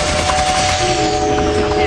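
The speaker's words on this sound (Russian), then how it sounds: "Пулемет был отличным средством борьбы с полчищами демонов." Rapid machine-gun fire from a video-game weapon shooting at hordes of demons, a dense continuous rattle of shots running loud and steady through the whole stretch, with a faint sustained tone beneath.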